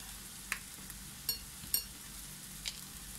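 Spicy sausage frying in a pan with garam masala stirred in: a soft steady sizzle with a few light scraping stir clicks, quiet and close, no talk.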